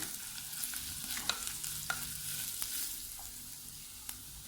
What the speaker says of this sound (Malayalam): ഇതിൻ്റെ ഈ പച്ചമണം മാറുന്നവരെ ഒന്ന് വഴറ്റിയെടുക്കണം.